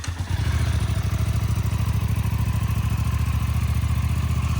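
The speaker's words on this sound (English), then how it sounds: "It's got a cold start." A 2024 Suzuki GSX-8S motorcycle engine starts cold after a brief crank, then settles into a steady, loud, fast-pulsing idle with no one talking.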